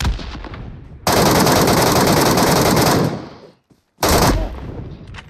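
Sustained automatic gunfire from the mobile battle-royale game PUBG Metro Royale, a loud, dense burst lasting about two seconds, a brief gap, then another short volley, close and dominating.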